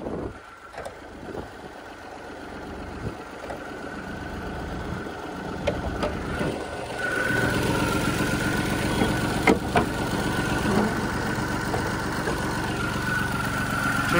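A used Mahindra KUV engine idles with a steady low rumble, some wind buffeting and faint clicks, growing somewhat louder and fuller midway as the idle continues without talk.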